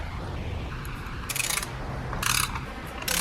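A ratchet tightens valve cover bolts on a 2012–2019 Ford Focus, giving short bursts of crisp clicking, three quick runs separated by pauses over a low background hum.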